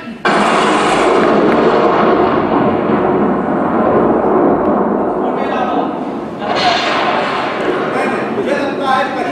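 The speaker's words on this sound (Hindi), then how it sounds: "मुझे लगता है कहीं बारिश हो रही है" A staged rain effect in a theatre play: a loud, steady rushing downpour that fills the whole stretch, with low rumbling thumps like thunder mixed in and no pauses.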